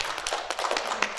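Conference audience applauding, a brisk burst of many hands clapping at once, dense and close with sharp irregular claps throughout the short stretch and no talk over it.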